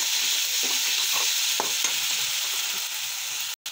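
Jada poha mixture with salt and stalks being stirred in a hot pan, a steady sizzle under soft scraping strokes of a spoon, close and continuous with no talking.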